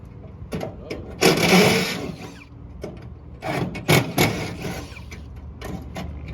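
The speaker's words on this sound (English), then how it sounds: "He'll drill slow" On an HVAC job, a power drill runs slowly in short, close bursts: two longer whirring runs with brief stops and starts, separated by quieter gaps.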